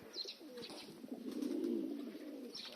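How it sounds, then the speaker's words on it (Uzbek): Pigeons coo softly and continuously at close range, a low rolling murmur that swells in the middle, with faint higher chirps and a quiet background and no talking. "Kaptar ko'payib ketdi."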